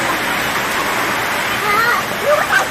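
Heavy rush of water pouring through a farm field beside a John Deere 5310 tractor standing in it, a steady loud broadband roar throughout with faint voices in the background.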